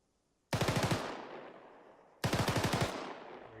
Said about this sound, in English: Let's hear some cyclic fire with that.